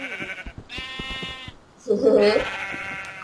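Sheep in a Minecraft game bleat in short wavering cries, two or three in quick succession, loud and close, with game sounds and clicks around them.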